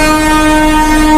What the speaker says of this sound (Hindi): देख सकते नहीं मतलब ट्रेन जा रहा भी है